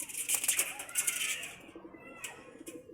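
Pigeons suffering from pox coo faintly amid a rustling, hissy background, with a few soft murmured calls and light scratchy sounds in the first half before quieter patches.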